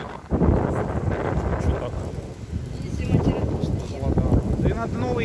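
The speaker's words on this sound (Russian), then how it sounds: "У нас ветрища." Strong outdoor wind buffets the microphone with a steady, heavy rumble throughout, while people talk over it.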